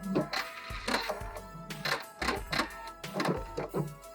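A sewing machine back stitches slipper fabric in short repeated bursts of rapid whirring and clattering, close and fairly quiet, with no talking.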